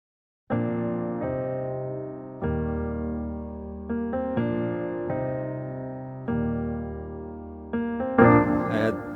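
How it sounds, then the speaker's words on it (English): Sampled piano from Keyscape, played on a MIDI keyboard, rings out in full sustained chords that change roughly every two seconds, clean and close, ending with a brief bright burst near the end. "What I then did is I played the piano on the MIDI keyboard."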